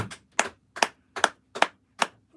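Six sharp hand claps ring out alone at a slow, even pace, each about a third of a second apart, close and moderately loud.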